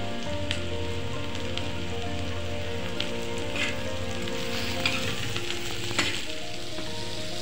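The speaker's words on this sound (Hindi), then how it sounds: "तो पत्ता गोभी इस तरह से ऐड कर देंगे और इसको भी अच्छे से फ्राई कर लेंगे।" Shredded cabbage fries in a pan for noodles, giving a steady soft sizzle like light rain with a few faint stirring clicks, close but fairly quiet and without talking.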